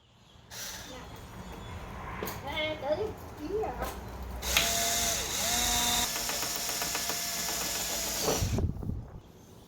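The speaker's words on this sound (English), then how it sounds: "So let's start drilling." An electric drill whirs in short bursts, then runs steadily for several seconds before stopping, close by with faint handling sounds around it, drilling during an add-on install on a Chrysler 300.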